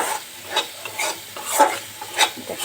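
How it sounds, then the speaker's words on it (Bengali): Spices sautéed in oil in a pan, with a soft frying hiss and several distinct scraping stirs of a spoon against the pan, fairly close. "এই যে মশলাগুলো কষাই নিচ্ছি।"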